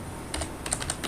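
Typing on a computer keyboard while entering a spreadsheet formula: a quick run of light, close key clicks in an irregular rhythm over faint background hiss.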